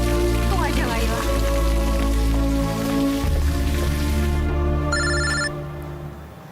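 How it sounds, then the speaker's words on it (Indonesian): A mobile phone rings indoors in an Indonesian drama, its electronic ringtone trilling repeatedly over a steady background hum before cutting off near the end. "Kayak suara handphone."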